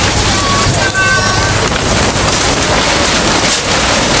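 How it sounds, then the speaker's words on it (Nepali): Wind gusting across an open-air night fair, a loud blustery rush buffeting the microphone continuously for a few seconds, with faint tones and crowd noise beneath. "रात पऱ्यो यस्तो हावा चल्दैछ नि यहाँ।"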